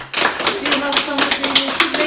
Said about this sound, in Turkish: Hepsi alkışlar eşliğinde evlerine uğurlandı.